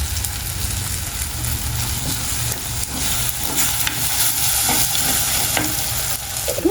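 Maldive fish pieces frying in a pan for a Sri Lankan banana blossom tempered dish, giving a steady close sizzle with stirring scrapes throughout and no talking.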